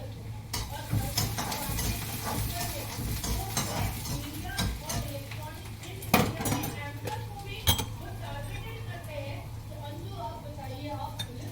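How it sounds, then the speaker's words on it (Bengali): A spoon scrapes and clinks against a pan while onions are stirred, a soft sizzle under it and a couple of sharper knocks on the metal. "এবার পেঁয়াজগুলোকে একটু নেড়ে চেড়ে দিচ্ছি।"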